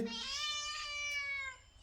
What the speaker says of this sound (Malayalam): പൂച്ച എന്താ നിനക്ക്